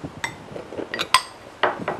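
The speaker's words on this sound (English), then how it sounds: "All right, so we're just whisking this in." A whisk clinks and scrapes against a bowl while flour and water whitewash is mixed, a few irregular bright taps and rattles close by, with no voices.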